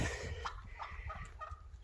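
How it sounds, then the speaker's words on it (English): Turkeys on a small animal farm give a few soft, scattered clucks and gobble-like calls, faint and somewhat distant, over quiet outdoor background. "I raise turkeys, as you can hear in the background"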